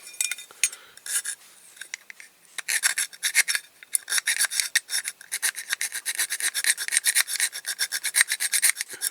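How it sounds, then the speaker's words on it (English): A hand file rasps across a Dinky Toys Big Bedford model's metal chassis in close, dry strokes, sparse at first, then a fast, steady run of repeated scrapes with no talk. "I'll just file them down first."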